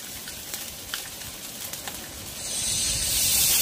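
Boiled taro leaves dropped into a pan of frying spices, with a soft crackle at first that swells into a loud, steady hiss of sizzling oil toward the end.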